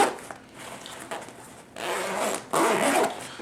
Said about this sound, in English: I can feel that zipper sticking some.